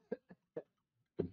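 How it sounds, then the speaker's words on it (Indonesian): Three short, dry coughs in quick succession, then a heavier, throatier cough after a pause, close to the microphone. "Mohon maaf, saya agak batuk ini."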